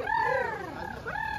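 A close pigeon gives a soft, throaty coo that rises and falls, against a faint background hum.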